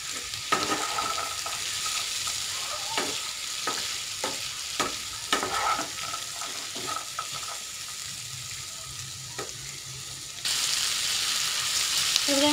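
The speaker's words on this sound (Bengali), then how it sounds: "ভালো করে নেড়ে নিব। এবার আমি মটরগুলো দিয়ে দেবো।" Peas added to a frying pan of mixed vegetables for a Bengali-style dry sabji, followed by repeated scraping stirs over a continuous sizzle. The frying grows louder toward the end.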